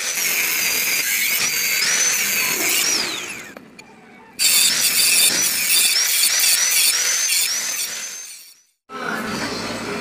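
A motorcycle front shock shaft, the high upside-down fork's stanchion, is cut with a power tool. A loud continuous whining grind with a rising and falling pitch breaks off in two sharp pauses, then resumes, up close.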